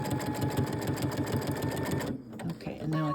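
A sewing machine runs in a steady rapid stitching rhythm while quilt binding is sewn down, loud and close for about two seconds before the motor stops and a few softer handling clicks follow.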